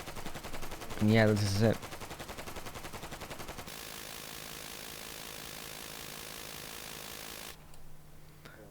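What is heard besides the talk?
M60 machine gun firing in video game Easy Red 2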